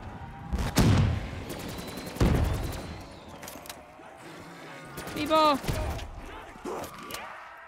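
Fireworks from a gobblegum in Call of Duty Black Ops 3 zombies, Shadows of Evil map, pop and crackle in quick bursts, with whistling streaks and someone speaking over them.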